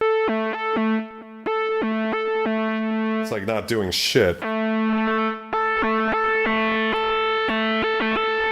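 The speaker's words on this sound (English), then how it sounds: "you're removing the natural high end of the sound, but then adding it back in with some sort of distortion" A Roland JP-8000 synthesizer plays steady harmonic tones with a filtered, distorted edge, holding notes with brief gaps and a burst of gritty modulated sweeps midway, while someone talks over it.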